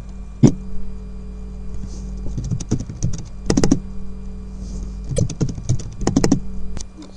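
A new password being typed on a computer keyboard: bursts of close, crisp key clicks in irregular clusters separated by short pauses.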